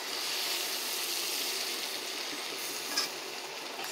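Pork steaks frying in a pan, a steady, dense sizzle that stays even and fairly loud from start to finish, with no voices over it.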